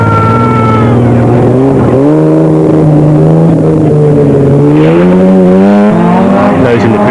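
Off-road race cars with space frames, trick suspension and powerful motors tearing past at the Baberspan 500, loud, sustained engine roar rising and falling in pitch as they accelerate, with a commentator's voice over it.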